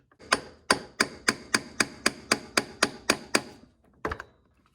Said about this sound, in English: you just hammer your screwdriver in and push